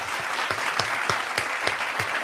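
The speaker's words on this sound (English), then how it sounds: "I just want to hit the applause button real quick." Applause sound effect during a live breakup advice stream, a short canned burst of clapping with distinct, regular claps over a hiss of crowd noise, fairly faint and even.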